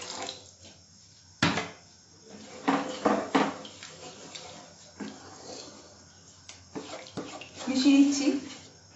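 Water is poured and stirred into spicy tomato crab cooking in a pan, giving irregular close splashes and sloshing bursts with a few utensil knocks, loudest near the end.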